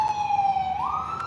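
An emergency vehicle siren wails steadily through a downtown street, its tone holding then sliding upward, loud and fairly close over background traffic.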